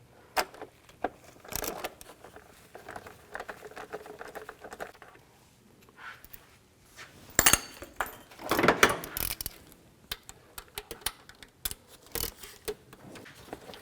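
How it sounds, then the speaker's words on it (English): Bursts of sharp mechanical clicking from a ratchet with a 5mm hex socket loosening cover bolts on a 2003-08 Nissan Maxima engine, close by, in short irregular spells between quieter handling noises. "Take a 5mm hex socket and take these bolts out of the cover."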